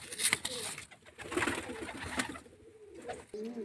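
Giribaz pigeons, including a white one, coo softly in a loft amid rustling and brief clattering noises, the low murmuring calls coming and going close by.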